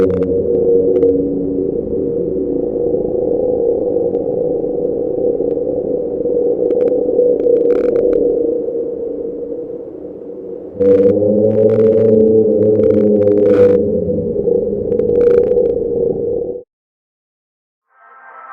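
A creature call attributed to Trevor Henderson's Hungry Man monster: a loud, sustained, droning low moan with layered harmonics, swelling louder partway through, sharp brief clicks over it, then a sudden cut to silence.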